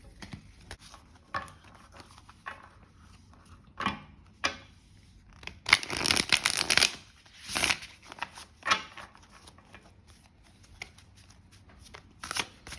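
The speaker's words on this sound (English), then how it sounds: "I'll see how it shuffles, and let's do a sample reading." Close shuffling of a tarot deck with buttery cardstock: intermittent soft papery riffles and taps build to a dense, loud stretch of rapid card flutter midway, then trail off into scattered flicks.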